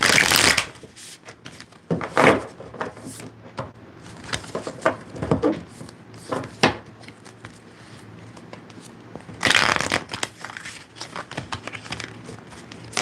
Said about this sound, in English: That was not a satisfying shuffle.